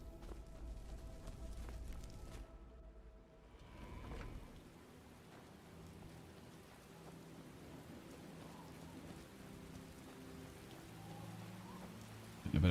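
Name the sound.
rain shower in video game Skyblivion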